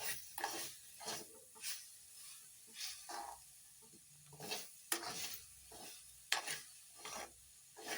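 Jackfruit vegetable sautéed in a pan in Malvani style, a low sizzle under a slow regular rhythm of spoon stirs and scrapes, about one every half second, close and quiet.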